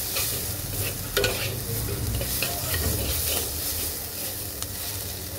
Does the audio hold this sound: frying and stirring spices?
yes